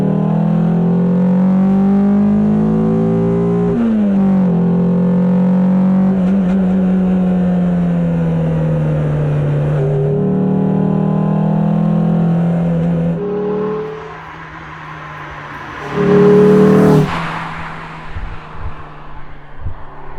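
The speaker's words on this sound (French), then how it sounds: "c'est ton admission, c'est ton filtre qu'on entend bien" A Renault 19 16S with its 16-valve engine revs in a series of climbing, falling pulls, the intake and air filter moaning loudly up close, ending in a sharp burst of revs.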